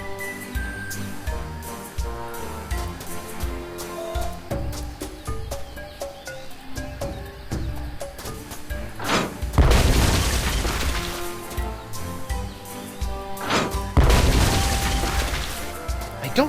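A cannon firing in the video game Tales of Monkey Island, two loud booming blasts a few seconds apart, set against game music and a brief spoken word.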